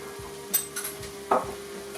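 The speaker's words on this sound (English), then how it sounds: "I'll just add the fennel seeds, just a level teaspoon of them." Fennel seeds sizzle in a pan, a soft steady frying hiss broken by a few light scrapes and stirring clinks over two seconds.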